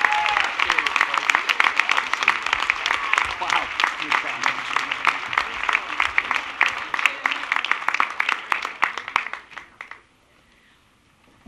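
Audience applause at a city inaugural ceremony in Somerville, Massachusetts: sustained, dense clapping from a large standing crowd, loud and even, fading out near the end into quiet.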